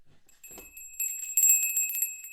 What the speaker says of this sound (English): Where's my chakra bell?